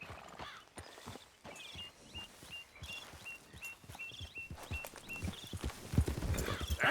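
Steady clip-clop of horse hooves walking at an even pace in the video game Red Dead Redemption 2, close and moderately loud over a soft outdoor ambience with faint game tones.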